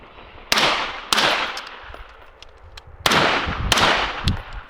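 Four suppressed gunshots through a Surefire RC3 suppressor ring out outdoors, each a sharp loud crack with a lingering echoing tail, the first two about half a second apart and the last two close together after a pause.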